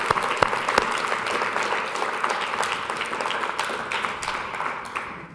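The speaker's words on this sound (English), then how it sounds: "we should applaud for Anne-Marie for being brave and coming up with it" Workshop audience applauding a participant at a storytelling talk, a steady wash of many hands clapping at fairly even loudness for several seconds, with a few sharper close claps near the start and tapering slightly at the end.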